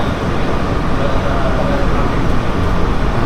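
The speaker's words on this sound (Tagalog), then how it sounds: "Umaandar na ulit yung tren." Steady rumbling of the airport train at Hamad International Airport in motion, a dense continuous roar of wheels and motor heard from inside the carriage.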